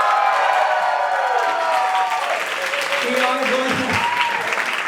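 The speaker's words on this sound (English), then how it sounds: "A round of applause for Forrest Fleur, please." Drag show audience applauding and cheering steadily for a performer, a dense wash of clapping that stays level for the whole stretch, with voices mixed into the crowd noise.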